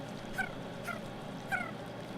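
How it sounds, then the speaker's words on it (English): A weathervane in the video game Ark: Scorched Earth barks at the sky, giving three faint, short, high yips spaced roughly half a second apart over a low background hum. "That's the Weathervane working. So as you can see, it's barking, it's making a noise. It's barking at the sky."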